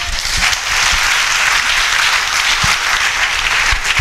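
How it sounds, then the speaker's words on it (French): A church crowd applauds pastor Cyril, dense steady clapping that fills the space, close and loud throughout with no pause. "Acclamez pour le pasteur Cyril."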